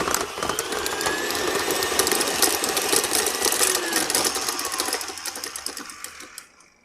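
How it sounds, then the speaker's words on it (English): KitchenAid stand mixer straining through thick, heavy cookie batter with oats and chocolate chips, a steady mechanical whir and grinding hum that carries on loudly, then trails off as the motor stops. "You can hear my KitchenAid groaning."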